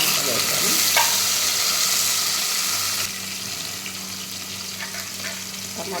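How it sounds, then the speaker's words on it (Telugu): Chopped tomatoes sizzling in hot oil in a pan with dried red chillies while cooking uggani, with a steady frying hiss and occasional scraping stir strokes, close and continuous, no speech. "టమాటా వేసి కాసేపు మగ్గనిద్దాం."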